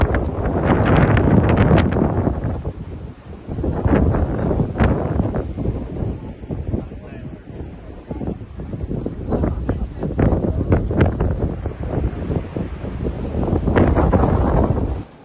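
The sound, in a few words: wind blowing at the Twelve Apostles coast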